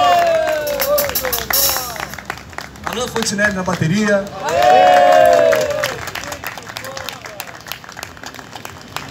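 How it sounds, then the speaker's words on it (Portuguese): Audience at a live music show claps and cheers as band members are introduced, crowd applause and shouts rising and falling beneath an amplified announcer's voice. "salve de palmas."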